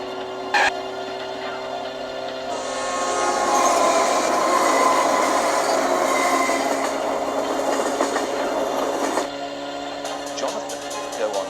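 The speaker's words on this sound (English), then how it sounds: "I keep my eyes open to see if the train is coming for us." A train passes on railway tracks, rising to a loud rumbling roll with clickety-clack wheel noise and squealing, a horn blast sounding before it fades back down toward the end.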